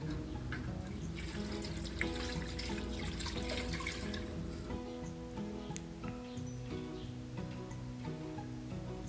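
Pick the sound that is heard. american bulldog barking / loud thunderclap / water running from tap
water running from tap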